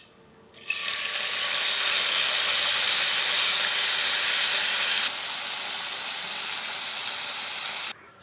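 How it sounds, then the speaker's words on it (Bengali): Small fish frying lightly in hot mustard oil in a kadai for a Bengali jhinge curry, a loud steady broadband sizzle that starts abruptly, holds strong, drops a little partway through and cuts off near the end, with no talk. "এখন মাছগুলোকে হালকা করে ভেজে নেব।"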